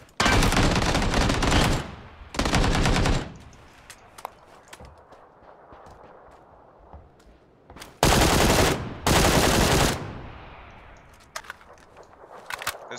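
Heavy video game gunfire comes in loud, dense automatic bursts, two near the start and two more past the middle, with quiet stretches of faint ambient noise and scattered clicks between them.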